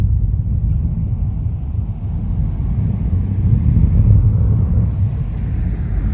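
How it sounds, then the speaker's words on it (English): A SpaceX Falcon 9 booster's engines reignite for landing at Vandenberg, heard as a distant, deep, continuous rumbling roar that swells and fades slightly, with passing-car noise mixed in. "No, that's the roar of the engines reigniting and coming back down to the pad."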